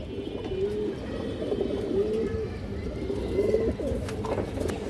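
Pigeons at a breeding farm coo in low, repeated throaty calls that overlap steadily against a constant background hum, with occasional faint clicks.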